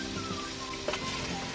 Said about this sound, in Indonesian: Diaduk bersama bumbu tumisannya sampai rata